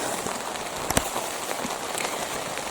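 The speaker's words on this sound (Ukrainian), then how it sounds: "такий сильний дощ почав у нас. Дощ припустився." Heavy rain pours steadily in an outdoor garden setting, a dense continuous hiss of drops hitting surfaces with a few louder close splashes, no voices.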